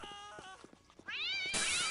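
Kittens in the video game Postal 2 give a few close, clear cat meows, with a longer wavering meow near the end.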